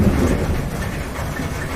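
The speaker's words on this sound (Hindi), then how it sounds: "तभी अचानक तेज बारिश होने लगी।" Heavy rain falling in a steady, dense wash with a deep low rumble beneath it, loud and continuous with no voices.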